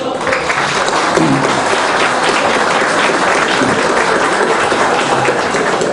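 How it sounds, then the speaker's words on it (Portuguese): Audience at a football friends' club gathering applauding first-time newcomers, a dense, continuous burst of clapping from many hands at close range, steady throughout. "fizesse uma saudação em palmas àqueles que estão chegando pela primeira"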